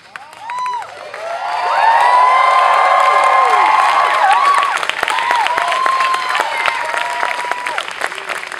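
An audience claps and cheers for volunteer teachers at a summer performance class, with loud sustained applause, whoops and crowd voices swelling after a brief start, then tapering slightly.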